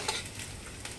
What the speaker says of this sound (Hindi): हमारा कढ़ाई गर्म हो चुका है तो इसमें हम सरसों तेल डाल देंगे और उसमें थोड़ी सा ब्लैक सरसों